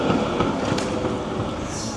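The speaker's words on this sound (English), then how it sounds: "as the tram comes past me." A Budapest tram rolls past close by in a city street, a steady loud rumble with faint clattering wheels and a brief high squeal near the end, no talk over it.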